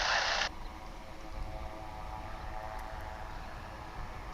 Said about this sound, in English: propeller plane spinning around? I can hear it, but I can't see it.